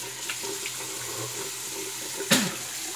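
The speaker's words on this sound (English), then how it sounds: "I better rinse the alum off first" Tap water runs steadily into a sink to rinse an alum block during shaving, a soft continuous splash with a brief louder gush near the end.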